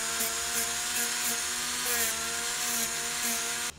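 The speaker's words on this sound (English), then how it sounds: "So I take a rotary tool with a sanding drum." A high-pitched rotary tool with a sanding drum whines steadily for several seconds, sanding foam edges with a gritty hiss, then cuts off abruptly at the end.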